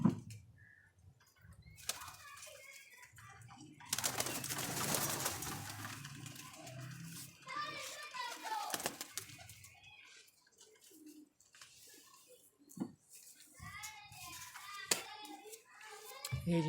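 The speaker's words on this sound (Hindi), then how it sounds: "कबूतर छोड़ दिया मैंने" A released pigeon coos and flaps its wings among other birds, faint and intermittent, with children's voices and hand sounds nearby.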